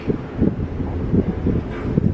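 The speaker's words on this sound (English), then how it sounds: "we're like really blowing in the wind" Strong wind at Walt Disney World buffets the microphone in loud, low, rumbling gusts that swell and fade over a couple of seconds.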